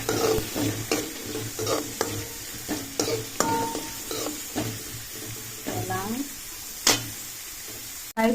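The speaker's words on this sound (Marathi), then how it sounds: "कांदो घालून बरो मातसो फ्राय करपाचो तो गोल्डन ब्राउन जायसर." Chopped onion frying in a pan in a Goan village kitchen for taikulya bhaji, cooked until golden brown, with steady stirring scrapes and a soft sizzle throughout, close and moderately loud under intermittent talk.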